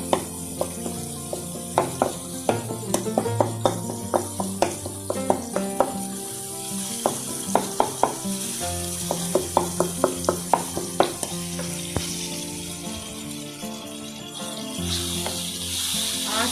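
Chicken with spices fries in a pan for a malai chicken handi, sizzling steadily under repeated sharp scrapes and knocks of a spoon stirring against the metal, close and fairly loud.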